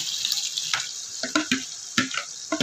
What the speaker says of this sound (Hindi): पानी के साथ ही ऐड कर देंगे जो बॉयल किया हुआ पानी था